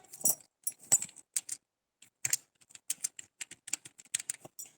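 Irregular bursts of keystrokes on a computer keyboard while entering text into an MS Excel 2013 cell, close and fairly crisp, with short pauses between clusters of taps and no talk.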